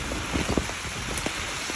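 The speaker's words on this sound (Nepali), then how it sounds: "हावाहुरीले बाटोहरू देख्न पनि गाह्रो छ मलाई हिँड्नलाई" A wind and rain storm outdoors on a walking path, heard as a steady rushing hiss of gusts and falling rain with faint scattered patters, fairly loud and without talk.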